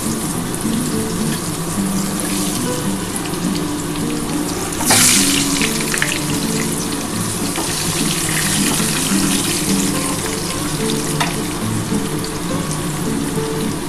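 Potato pieces frying in hot oil in a home kitchen, giving a loud, dense, continuous sizzle that stays close and steady throughout, with one brief louder burst partway through and no speech.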